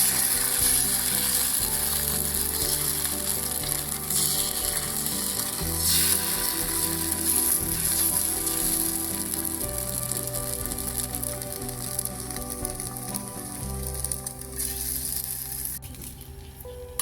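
Pitha frying in oil, a steady soft sizzle that runs throughout with faint intermittent scraping, close and fairly quiet, with no talking.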